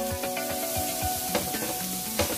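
Shrimp browning in a pan for shrimp and grits give off a steady close sizzle, with a faint tonal hum running underneath.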